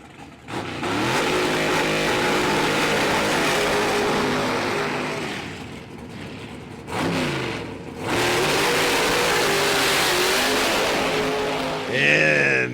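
A Pro Stock drag racing car's engine roars loudly at the track, with sustained high-revving runs, a brief gear-change dip, then another long pull, heard alone without talk.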